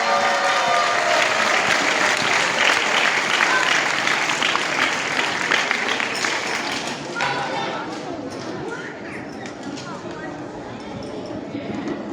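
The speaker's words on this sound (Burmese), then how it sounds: "ကျွန်တော်လက်ခုပ်တီးပြီးတော့မှဂုဏ်ပြုပေးကြရအောင်" Crowd at a youth Bible memorization contest clapping for prize winners, loud sustained applause that gradually thins and fades toward the end, with talk mixed in.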